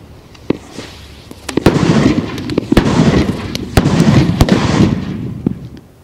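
An M32 grenade launcher fires medium velocity tracer rounds in a rapid string of sharp, loud reports, several close bangs in quick succession with echoing booms between them, with no voices.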